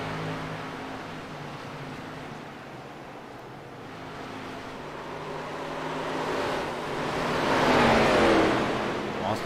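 An ARCA race car roars past on the Phoenix track, its engine noise building steadily to a loud, close peak before easing off slightly, over a continuous background of race-day rumble.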